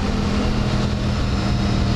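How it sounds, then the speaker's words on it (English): A motorcycle with a loud exhaust drones steadily nearby with a low, throaty hum that holds constant throughout, no talking over it. "just completely fogging down my whole video with his loud exhaust"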